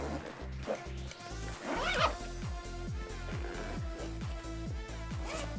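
A zipper rasps along an Evergoods Phoenix backpack pocket, with a steady low rhythmic pulse running underneath throughout.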